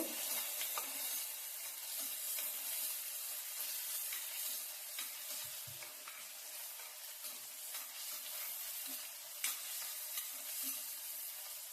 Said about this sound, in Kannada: ಈರುಳ್ಳಿ ಕೆಂಪಗಾಗಬೇಕು.